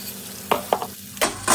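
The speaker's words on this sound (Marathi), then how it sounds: "तर आता मी ह्या जास्त अजून होण्याच्या ऐवजी पटकन बटाटे टाकणार आहे" Potatoes are tipped into a pan of frying green chillies in a home kitchen, giving a few sharp clattering drops and scrapes followed by a bright hiss of sizzling oil.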